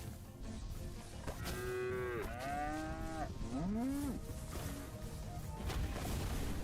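Cartoonish cow moos from the Moo Lander video game: a few drawn-out, bending lowing calls in quick succession, loud and close over a steady game background.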